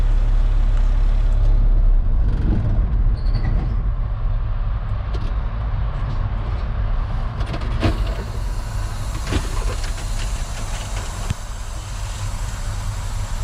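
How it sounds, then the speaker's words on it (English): Inside a truck cab, the air brake system builds pressure until the air governor cuts out at 120 psi. A steady low engine rumble runs throughout, broken by a few short hissing bursts and clicks near the middle and end. "The air governor cut out at 120 psi and it is working properly"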